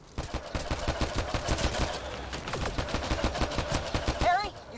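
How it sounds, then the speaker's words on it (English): Rapid, dense gunfire from a Mass Effect: Andromeda firefight, with sustained bursts of automatic shots, loud and close, and a brief electronic whine near the end. "Just keep firing, we can do this!"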